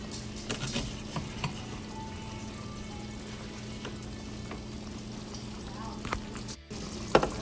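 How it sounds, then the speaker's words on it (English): Onion and taco filling sizzle softly in a pan on the stove while a spoon stirs and scrapes now and then, the frying quiet but steady, with a few sharper utensil clinks near the end. "continue to stir it so it doesn't stick to the bottom"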